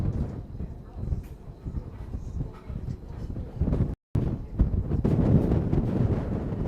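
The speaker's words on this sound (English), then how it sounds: "wind is picking up" Gusty wind buffets an open rooftop beside JFK airport's TWA Flight Center, a steady rumbling roar of microphone wind noise that swells louder in the second half, with a brief dropout near the middle.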